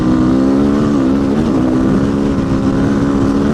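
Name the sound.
motorcycle riding at speed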